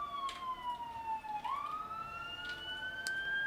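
An ambulance siren passes outside, its wailing tone sliding down and then rising again, heard clearly but from a moderate distance with steady background noise beneath.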